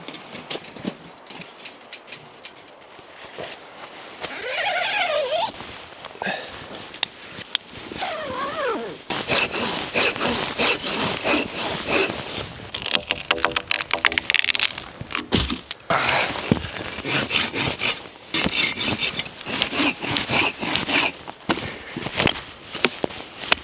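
Firewood being sawn by hand at a Finnish wilderness hot-tent camp, heard as steady rasping back-and-forth strokes that grow louder and busier partway through, close by with no talking.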